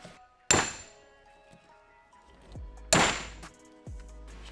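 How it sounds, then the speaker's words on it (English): A hammer strikes a manual impact screwdriver on the engine case screws of an RM250 during a rebuild: two sharp metallic clanks a few seconds apart, each followed by a duller thunk, in a quiet room. "I like to use an impact screwdriver on this as well."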